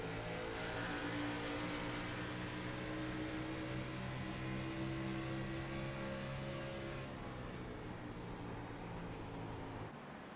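Xfinity Series race car engines drone at Homestead-Miami in a simulated race, with several steady tonal engine notes held together under a continuous roar. The pitch shifts slightly as the cars pass through a corner, and the sound ends abruptly.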